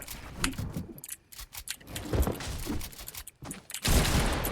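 Rapid bursts of attack SMG gunfire in Fortnite Chapter 2, dense crackling volleys with short gaps between them, loud and up close.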